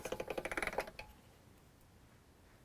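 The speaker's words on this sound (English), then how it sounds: "just run this through the pasta machine" Polymer clay fed through a hand-cranked pasta machine, a faint quick run of about a dozen clicking, rattling ticks lasting under a second, then near silence.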